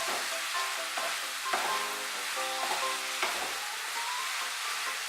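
Green beans tossed with chili powder in a pan hiss continuously up close, with soft scraping strokes of the spoon as the spice is mixed through and faint ringing tones in the background.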